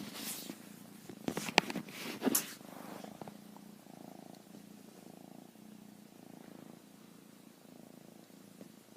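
A kitten purrs softly and rhythmically up close, a low rumbling pulse, after a few brief rustling handling noises at the start.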